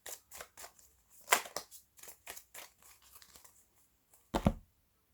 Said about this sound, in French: Je vais remélanger un peu. Je vais couper et je vais prendre les cartes du dessus.